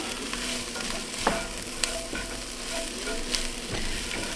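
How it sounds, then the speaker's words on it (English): A pot of creamy white lasagna soup with sausage is stirred by hand close up: soft bubbling and sizzling runs continuously, broken by a few light clinks and scrapes of the spoon against the pot, with no talking. "And then we're going to give it a good mix."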